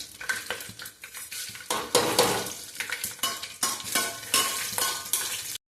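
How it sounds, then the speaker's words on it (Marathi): Whole spices, bay leaf and cumin fry in hot oil in a pot, with steady sizzling and bursts of crackling as a spoon stirs and scrapes against the metal, loud and close, without speech. "तेजपत्ता पण टाकणार आहे तेलामध्ये आणि जिरं पण।"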